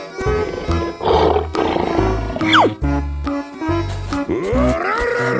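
A lion roars loudly in a 3D animal slide video game, the roar rising over upbeat background music and springy game effects.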